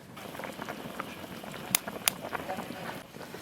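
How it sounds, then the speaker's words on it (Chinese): Beef bone broth coming to a boil in a pot in a home kitchen, a steady bubbling and gurgling with a few sharp clinks against the pot, moderately faint and close. "先把牛骨头汤水烧开"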